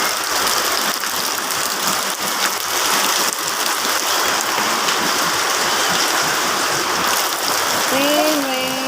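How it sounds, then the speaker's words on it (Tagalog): Steady rain falls hard and close in a continuous dense hiss of drops hitting surfaces, loud throughout, with a brief voice or tone near the end. "Rain, rain, go away."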